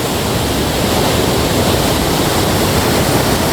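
A loud, dense roar of rushing water from a waterfall stream in Kerala, constant and unbroken, as if standing right beside it.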